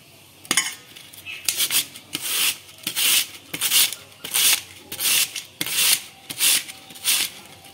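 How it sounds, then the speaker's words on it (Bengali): Potatoes are grated by hand on a kitchen grater, pulled in long strokes for crispy potato jhuri bhaja: about ten steady rasping scrapes at a regular rhythm, close and fairly loud, with no talking. "আলুগুলো গ্রেটারের সাহায্যে ধীরে ধীরে করে কেটে নিচ্ছি।"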